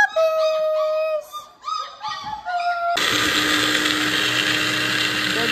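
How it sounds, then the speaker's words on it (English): Four-week-old puppies whine and yelp in a breeder's whelping area, a cluster of high, wavering cries close by, followed by a loud mechanical whirring that drowns them out. "Puppies!"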